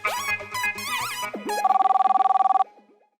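A phone ring trills in a rapid electronic burst after a short musical jingle, loud and close, then cuts off abruptly.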